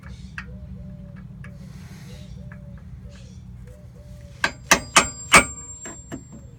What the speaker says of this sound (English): So now we're just going to take a center punch and punch right in the middle of each one of the